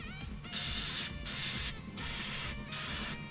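A spray paint can hisses onto a terrain model in four bursts, steady and close, with short pauses between them.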